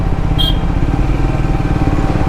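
Triumph motorcycle ridden on a highway in India among trucks and cars, its engine giving a steady, loud, close drone with continuous road and wind rumble and no talk.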